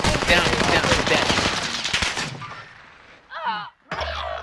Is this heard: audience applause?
no